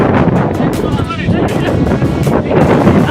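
Strong wind buffets a bridge by the sea, roaring steadily and loudly close to the microphone throughout, with a voice speaking over it.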